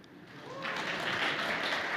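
Scattered, thin clapping rises from a conference audience after a joke, a handful of hands patting briefly in a large hall rather than full applause.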